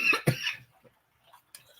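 A single sharp cough near the microphone, followed by quiet, then a faint breathy noise.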